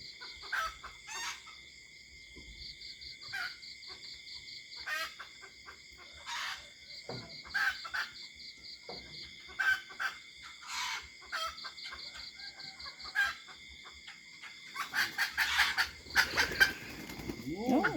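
A rooster crows repeatedly among clucking hens, the calls sharp and fairly close with short quiet gaps, and a denser burst of clucking near the end.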